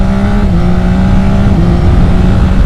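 A 2024 Yamaha XSR900 GP motorcycle's CP3 engine pulls hard under load, a loud, close, continuous engine roar with slight pitch shifts as the revs climb, with no talking.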